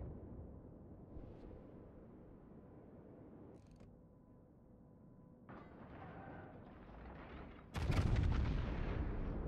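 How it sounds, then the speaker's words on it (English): Montana battleship guns fire in the naval game World of Warships, heard as deep booming salvos over a constant low rumble, with the heaviest, loudest blast near the end. "This Montana needs to stop firing until he can repair."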